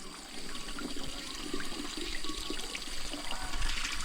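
Natural spring drinking water flows and splashes steadily at a village source near Sepon in Laos, a close, continuous rushing gurgle with no voices.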